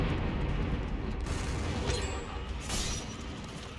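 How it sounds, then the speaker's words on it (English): Flashbang going off in Dead by Daylight, a muffled boom with a bright burst of noise over constant low in-game rumble. "Really good with them flashbangs."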